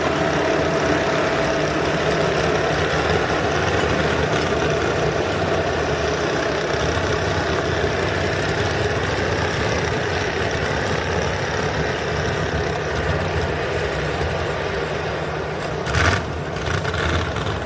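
Big pulling tractors rumble at idle at a truck and tractor pull in Fishersville, a dense, steady low engine drone that holds for the whole stretch with a brief swell near the end, no talking.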